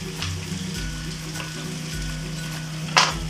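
Sliced onion hitting a pan of browning garlic for eel adobo: a steady close sizzle with faint scraping of the spoon and one brief sharper clatter near the end.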